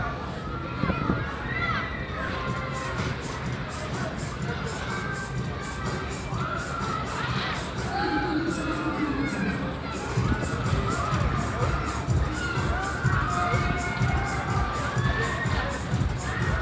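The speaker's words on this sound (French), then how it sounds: "Là, ils crient alors qu'il n'y a rien à crier pour l'instant." A crowd of riders screaming and shouting on a Street Fighter fairground ride at the Tourcoing winter fair, continuous loud overlapping screams and cheers with machinery noise and a sharp bang, sustained throughout.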